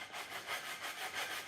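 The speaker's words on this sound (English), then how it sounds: "Just sanding them flat, sanding them flush." Rhythmic back-and-forth rasping of sanding guitar frets flush on a new neck, close and fairly quiet, a short run of even strokes with no talk.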